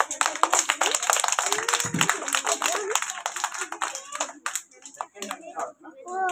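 Children clap their hands in a classroom Teachers' Day celebration, a dense, uneven patter of claps running throughout while voices talk and call out over them.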